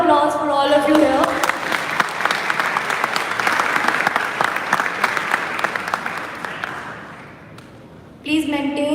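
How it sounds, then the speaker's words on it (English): A hall audience at a college tech event breaks into loud, sustained clapping with scattered sharp claps, tapering off before a voice resumes speaking at the very end. "So a great round of applause for all of you here."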